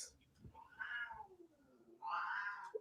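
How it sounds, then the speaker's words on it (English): A domestic cat lets out two drawn-out, wavering meows close by, the second louder and longer, with brief quieter sounds in between. "Cat is having a huss fest."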